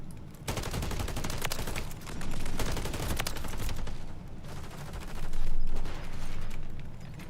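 Rapid bursts of gunfire in a shooter video game, loud and dense, come in several sustained volleys with short gaps between them.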